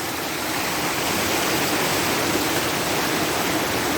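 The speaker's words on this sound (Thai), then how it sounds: "มาเที่ยวน้ำตกก็เปียกนะครับผม" Seven-colour waterfall at Ban Don Siat in Bueng Kan, Thailand, roaring as a loud, steady, close wash of falling water with no break and no voices.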